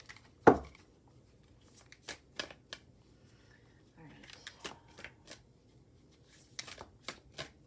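Tarot cards being shuffled, heard as a quick riffle followed by scattered soft card taps and slides, fairly faint and close, with a voice talking in between.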